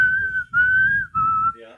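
A theme tune whistled by a person as three sustained, slightly wavering notes with brief breaks between them, clear and close against a faint background rumble.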